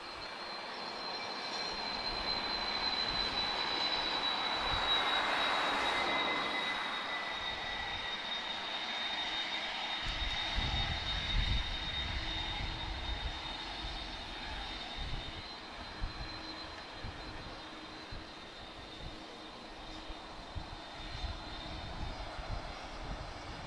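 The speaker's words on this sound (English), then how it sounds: "This is an A330-200, very loud as well. Two CF6 engines," Airbus A330-200 with first-generation CF6 engines taking off, a broad distant jet roar that swells and lingers with a faint high whine, rumbling on for over twenty seconds.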